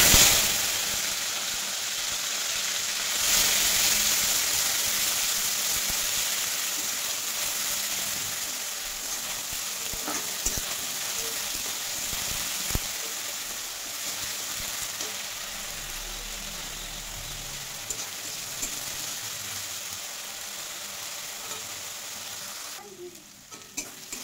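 Whole spices, cumin and ground onion paste sizzle steadily in hot oil, a loud continuous frying hiss with occasional stirring clatter, close and unbroken by talk.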